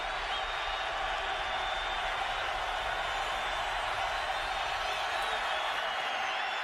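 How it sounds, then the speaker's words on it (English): A football stadium crowd during a Carolina Panthers at Tampa Bay Buccaneers game roars in a steady, dense wash of cheering that lasts throughout, broad and distant, with no clear breaks. "So the crowd into it here"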